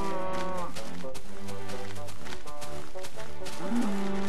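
A cow in Minecraft gives a low, drawn-out moo against steady game background sound with music, with a player talking over it throughout.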